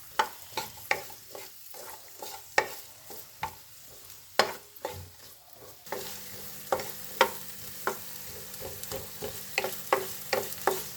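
Thick-cut onions fry in a pan for a wedding-style matar kaju mawa sabzi, with a steady sizzle under repeated sharp scrapes and clatters of stirring at an uneven rhythm, close and fairly loud throughout.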